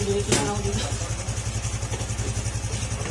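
A motorcycle engine with a freshly cleaned throttle body idles steadily with a fast, even putter and mechanical clatter, close up, after a brief rev near the start.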